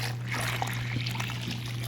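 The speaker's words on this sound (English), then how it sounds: "3 cups of hot water out of the tap" Hot tap water runs into a measuring cup in a home kitchen, a soft continuous trickle over a low steady hum, fairly quiet.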